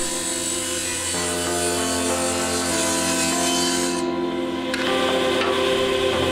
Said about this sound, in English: just lower the blade and cut the three pieces free.